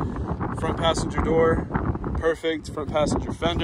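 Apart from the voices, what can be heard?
wind blowing on microphone outdoors in Oklahoma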